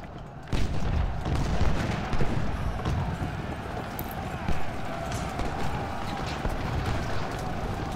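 Cavalry horses gallop in Ultimate General: Civil War, a dense continuous clatter of hooves with distant booming battle noise beneath, while someone talks over the game throughout.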